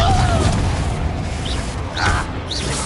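A Confringo fire-spell blast in a Harry Potter game lands amid a loud ongoing fight, a muffled boom inside dense rumbling with faint chirping effects, while a voice speaks briefly.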